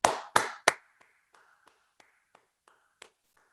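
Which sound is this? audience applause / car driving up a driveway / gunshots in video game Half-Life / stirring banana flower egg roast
audience applause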